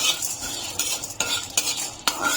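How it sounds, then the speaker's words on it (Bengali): Peanuts and chana dal are stirred in a pan as they fry, a utensil scraping and clinking against the metal in quick, uneven strokes over a faint sizzle. "আমি এখন এর মধ্যে কয়েকটা ছোলার ডাল দিয়ে দিচ্ছি। এখন আমি দুটোকে ভালো করে ভেজে নেব।"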